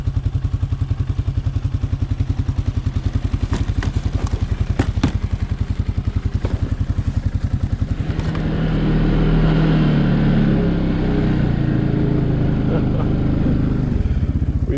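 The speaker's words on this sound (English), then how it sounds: "I'm gonna try to do a little quick ride here past some trees" A 2023 Can-Am Outlander Pro HD7 700 ATV rides past trees in deep snow, its steady engine drone rising in loudness and roughness about halfway through as it gets under way, close and continuous with no talk.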